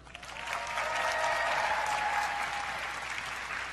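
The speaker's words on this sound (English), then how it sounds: "let's give a round of applause for the president of the Miss Universe organization, Paula Shugart." Large audience applauding at a Miss Teen USA 2018 pageant, a sustained, even roar of clapping that swells and holds for several seconds at moderate distance.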